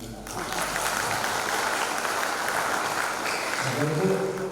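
Audience applause at a graduation ceremony in Sibolga, Indonesia: sustained, dense clapping from a large crowd that fades out toward the end as a voice begins speaking.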